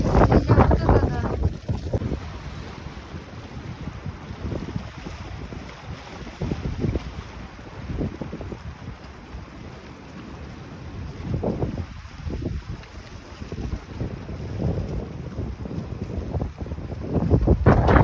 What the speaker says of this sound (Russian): Вот это ветер, меня чуть не сдуло только что.